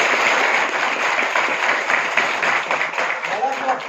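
Loud, sustained applause from a gathered audience at a Marathi speech or lecture, a dense, steady wash of clapping lasting the whole stretch with no voice heard over it.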